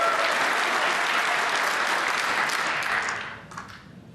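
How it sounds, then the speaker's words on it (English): Loud, sustained applause from a packed snooker crowd at the Barbican during the UK Championship standing ovation, continuous and dense before thinning out in the final second. "A standing ovation."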